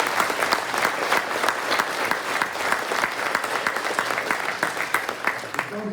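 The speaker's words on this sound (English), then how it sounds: "I want to give these people a round of applause" An audience at a hall of fame induction ceremony applauds steadily, a dense, even wash of many hands clapping throughout at moderate loudness, with no one speaking over it.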